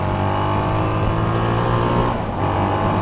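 SWM Outlaw 500 motorcycle engine pulling from low revs along a winding road, a steady loud drone with continuous low harmonics and no voices.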